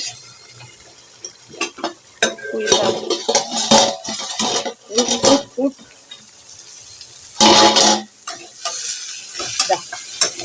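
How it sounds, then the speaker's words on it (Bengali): Spicy Malabar spinach fried in a pan, with a spatula scraping and stirring in irregular bursts over a steady sizzle and occasional clatters of cookware. "এখানে পুঁই শাকের ঝাল ভাজা"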